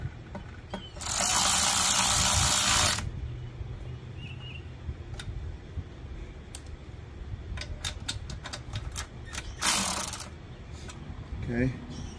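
A wrench tightening down the gas tank on a 5HP Briggs & Stratton engine during a restoration gives a long burst of close ratcheting, a quieter stretch of scattered metallic clicks, then a second shorter ratchet run, with no talk.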